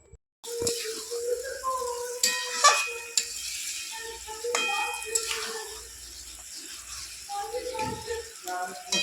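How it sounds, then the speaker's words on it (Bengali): Spices for a liver curry being stirred and fried in a pan, with a steady sizzle and intermittent metallic scraping and clinks of the utensil, close by, while a person talks over it. "এরকমভাবে ভালো করে কষে নিতে হবে যতক্ষণ না মশলার গন্ধ চলে যায়।"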